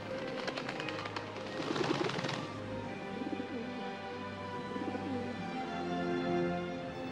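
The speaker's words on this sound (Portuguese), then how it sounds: "E o Espírito Santo desceu sobre Jesus em forma visível como uma pomba." A dove cooing in a film scene, repeated soft low coos running through the clip amid a fuller soundtrack with a brief brighter burst early on, no talking heard.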